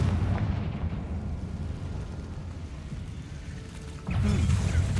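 A Confringo blasting spell from the video game Hogwarts Legacy strikes a barricade: a dense, rumbling blast and crumbling roar that fills the clip, swelling into a fresh burst of impact near the end.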